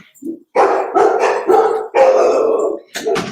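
A dog barks loudly and repeatedly, close by, in several bursts with short pauses between them.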